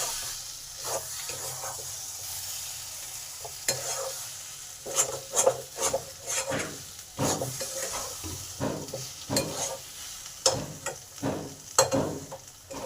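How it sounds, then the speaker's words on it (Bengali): A spoon stirs garam masala into a thick papaya and Gobindobhog rice ghonto in a pan. Soft sizzling runs underneath while close, irregular scraping strokes repeat steadily for more than ten seconds. "গরম মশলাটা মশলাটাকেও ভালোভাবে এর সঙ্গে মিশিয়ে দিই"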